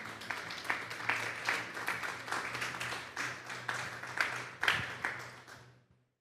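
Applause breaks out in a church service, a crowd clapping in loose, uneven bursts with a few louder hits, close and lively, then fading quickly to silence at the end.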